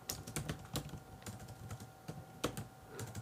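Quiet, irregular clicking of keys on a computer keyboard, a few quick bursts of typing with short pauses between them and no voices.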